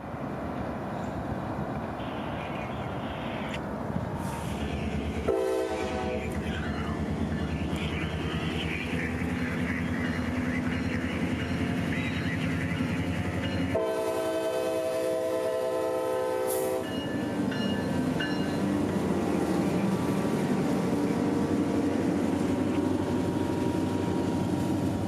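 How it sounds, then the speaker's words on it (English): A CSX local freight train rumbles past in Tampa, loud and close, and its horn sounds two long blasts over the steady roll of the cars. "Y191 would be heading south with some miscellaneous freight for Rockport"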